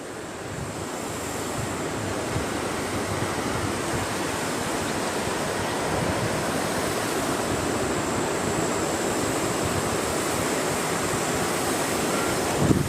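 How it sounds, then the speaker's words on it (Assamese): The Ranga river runs past a camp in Arunachal, its water rushing in a loud, steady, unbroken roar that holds level throughout with no voices. "এইখনে হ'ল সেই নদীখন আৰু ইয়াৰ পানী চ' বহুত বাঢ়ি যায়"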